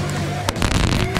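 A cheap firework petardo burning on the ground, giving off a continuous sizzling hiss with a few sharp crackles and pops, close and fairly loud throughout.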